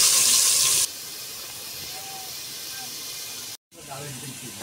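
Onions frying in a pan while a home cook prepares a cucumber and chicken-skin curry, a steady hissing sizzle with a brief louder burst at the start and a short gap near the end.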